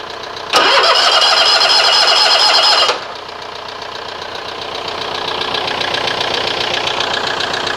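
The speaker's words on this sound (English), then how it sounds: "All right, we're going to attempt to start the engine one more time." A Toro Timecutter SS 4225 riding mower engine cranks loudly for about two seconds, then catches and settles into a running idle that slowly builds in level, heard up close.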